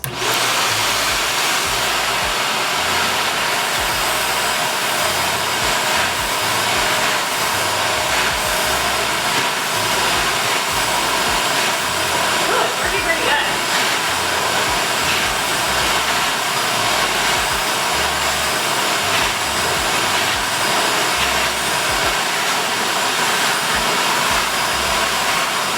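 A Shark NV360 upright vacuum cleaner with its upholstery attachment runs on carpeted stairs, giving a loud, steady whirring roar with thumping bumps as the tool is pushed along the steps.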